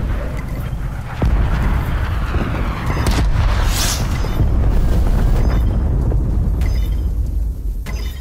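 A smoke grenade lands and hisses open in a Call of Duty Cold War match on Nuketown, giving a loud, sustained rushing whoosh that swells after the first second and carries on for several seconds over dense gunfire and battle noise.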